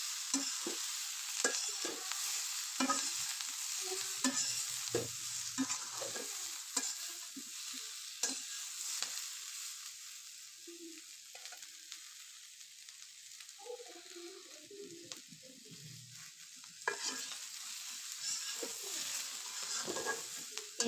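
A curry with turmeric powder is stirred in a hot pan, with a constant frying sizzle and repeated scraping and clinking of a spoon against the pan. The stirring pauses midway, then resumes.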